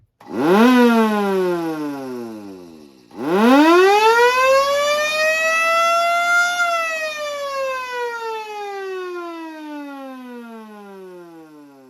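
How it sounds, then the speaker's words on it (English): A loud 1967 Federal Model A mechanical siren, pointed downward, winds up, drops, then winds up again into a long rising wail that slowly fades as it spins down. "now I've got the siren just facing down, so it's not as loud"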